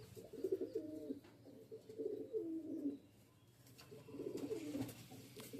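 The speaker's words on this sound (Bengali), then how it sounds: "পায়রাটাকে ছেড়ে দেখাচ্ছি আপনাদের" A pigeon just let go from the hand, an Andhra Kalanka or Regder breed, gives three close, soft cooing phrases with brief pauses between them.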